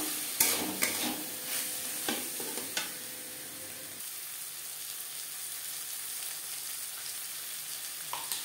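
Spices are stirred in a pan for vegetarian matar paneer, with soft scraping strokes and brief clinks of a spoon over a faint, steady sizzle; close and quiet, with no talk.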